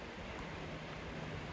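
River water flowing briskly through Inverness, a steady rushing wash that stays even and fairly quiet throughout, with wind-like noise mixed in and no voices.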